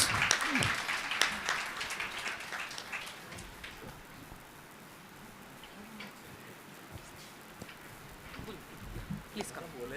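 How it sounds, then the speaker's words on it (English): An audience at a sports Ayurveda conference applauds a guest who has completed the Everest and Polar Marathons; dense clapping is loudest at the start, then thins into scattered claps. "Let us give him a big round of applause"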